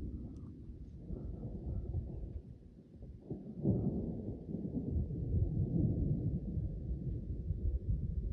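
Low thunder from a lightning storm amid fire, smoke and ash rumbles at a distance, swelling after a brief lull and rolling on steadily to the end.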